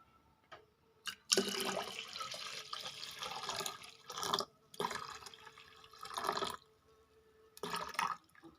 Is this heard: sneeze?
no